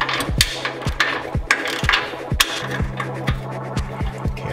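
A wrench works a muffler clamp on the exhaust of a 2022 Harley-Davidson Road King Special, giving close, repeated metallic clicks and ratcheting ticks in an uneven rhythm, with a faint steady hum underneath.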